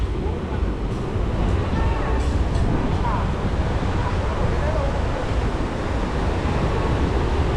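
Surf breaking on a beach in Bali at a beach club, a steady broadband wash of waves with wind noise, continuous and fairly loud throughout.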